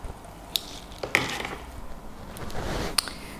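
Scissors cut strands of yarn for a crochet amigurumi pig's pompom, giving a few crisp close snips amid soft rustling handling noise.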